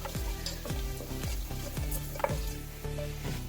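Fennel seeds, cinnamon pieces and a star anise roast in ghee with a busy close sizzle, punctuated by a regular series of about nine low thumping stir strokes around once every half-second. No speech.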